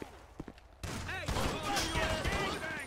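Gunfire from a gun in GTA V breaks out after a quiet opening with faint clicks, turning into dense rapid shots layered with game effects and a talking voice.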